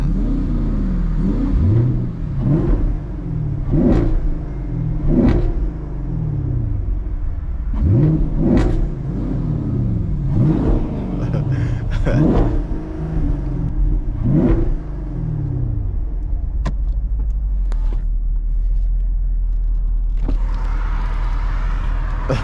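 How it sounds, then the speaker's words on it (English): Camaro SS or widebody Scat Pack engine revving late at night, a string of sharp rising revs and throttle blips in quick bursts, loud and close, followed by a lower idling rumble. "Oh, he over there revving."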